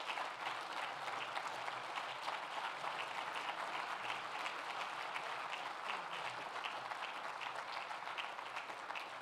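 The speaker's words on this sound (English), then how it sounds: "How about another round of applause for all of our different honorees?" A large audience at a university alumni awards show gives sustained, dense clapping for the honorees, an even roar of applause that holds steady and loud throughout.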